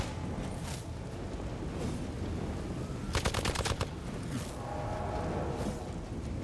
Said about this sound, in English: Stop shooting her.